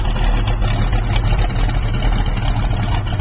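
A 1970 Chevrolet Monte Carlo SS with its numbers-matching engine idles steadily and close by, a loud, continuous low rumble with no talk over it.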